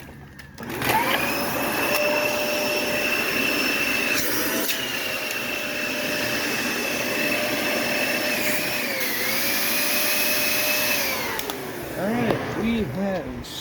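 A vacuum clearing a blockage during a roadside rescue on a chilly day, a loud steady whine with a sustained high tone that dips and shifts pitch midway, then winds down near the end.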